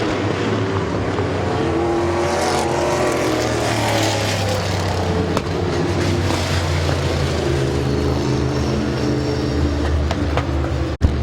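Summit Racing Economy Modified race cars circle Midvale Speedway under caution, their engines droning loudly and steadily as the pack rolls along, with a sharp bang near the end.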